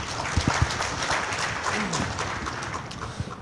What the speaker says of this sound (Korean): 세 분께 다시 한번 박수 한번 좀 부탁드리겠습니다